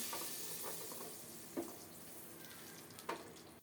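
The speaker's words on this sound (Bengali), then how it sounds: "সরিষার তেল দিলাম দুটা তেজপাতা দারুচিনি এলাচ দিলাম" Bay leaves, cinnamon and cardamom fry in mustard oil for pulao, giving a continuous soft sizzle with two sharp spoon taps against the pot, heard close up with no talking.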